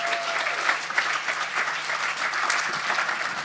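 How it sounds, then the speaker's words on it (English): A festival audience claps steadily and loudly for a guitarist, a dense wash of applause lasting a few seconds with no clear voices. "Big clap for Frank, everybody, for playing with me."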